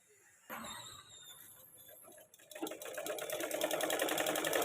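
A sewing machine stitches a blouse, starting after a short pause. Its run grows faster and louder partway through, settling into a steady, rapid rattle close to the microphone.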